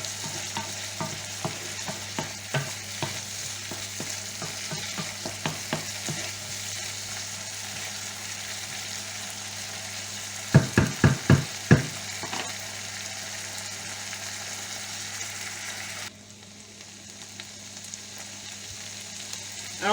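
Basmati or Thai rice fries in a pan, with a soft constant sizzle beneath repeated scraping stirs; a quick cluster of louder scrapes comes midway before the sizzle quiets.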